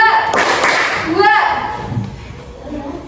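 A class of primary-school children claps in rhythm, repeated sharp claps arriving in short bursts under a teacher's voice.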